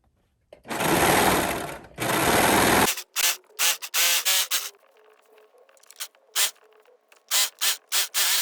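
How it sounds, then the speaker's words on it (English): A sewing machine runs in two long steady bursts, then stitches in a series of short, quick runs separated by pauses, sewing a satin-lined beanie; close and clear. "take this to the sewing machine"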